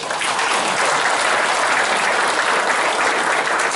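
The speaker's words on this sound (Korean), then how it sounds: "우리 자축으로라도 큰 박수 한번 보내주십시오." Sustained audience applause fills the room at a Commerce and Industry Day breakfast meeting of the Gumi Chamber of Commerce, steady and dense for nearly four seconds without a break.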